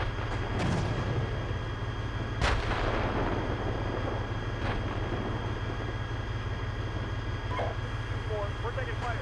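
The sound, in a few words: incoming gunfire and artillery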